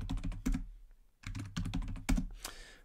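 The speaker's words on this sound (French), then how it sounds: "donc là je tape un password" Fingers typing a password on a computer keyboard in quick, close bursts of clicking keystrokes, with a brief pause in between and no talking.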